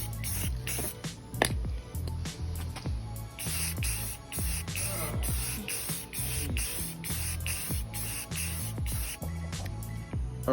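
A spray paint can laying light primer coats, repeated close hissing bursts in quick succession, some short and some held longer, over a low background rumble.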